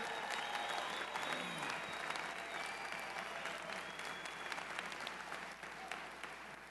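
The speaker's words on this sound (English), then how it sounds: "Give them a round of applause for what they do every single day." Convention hall audience at a union address applauds in a steady, continuous wash of clapping, somewhat distant and soft, with faint cheers and voices mixed in.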